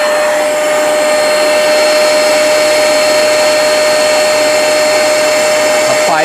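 A Hoover portable spot cleaner runs nonstop, a loud, close motor whine with a steady pitched hum and airy suction noise throughout, with no speech.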